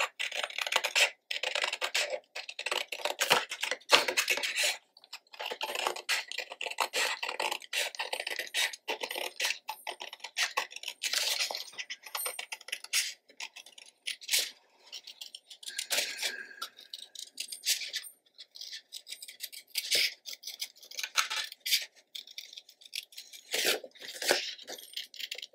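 Scissors snip and crunch through paper in quick irregular bursts while fussy cutting out pieces for a mini album, close up and crisp, with no talking.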